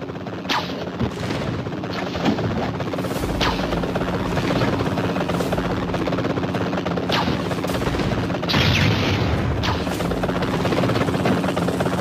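A helicopter in a Spider-Man PSP video game, its steady rotor drone running throughout, loud and continuous, mixed with bursts of gunfire-like crackles and impacts.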